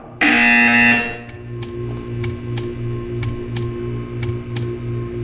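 A loud electronic buzzer in Portal 2 blares for about a second, followed by steady rhythmic ticking over a low hum.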